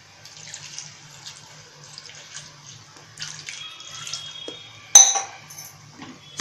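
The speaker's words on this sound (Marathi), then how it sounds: "बुडण्यापुरतं पाणी ओतायचं।" Water is poured from a tap-like stream into a pot over cut drumstick (moringa) pieces, several short splashing bursts with light metallic clinks and a sharper splash toward the end.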